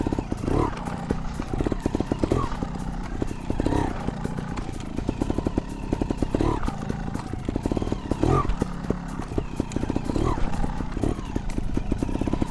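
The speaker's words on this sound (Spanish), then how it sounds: "voy a hacer aquí unos movimientos de rueda trasera para apreciar la diferencia posteriormente con el rebote abierto" A Reiger rear shock on a trial motorcycle, rebound closed, is pumped by hand in repeated rear-wheel compressions, giving soft rhythmic clunks and rattling chassis clatter at close range.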